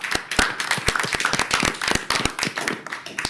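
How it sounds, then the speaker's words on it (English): A small crowd at a city council meeting claps in a short, close round of applause, with individual hand claps distinct and fairly steady throughout, no voices over it. "that's when people applaud"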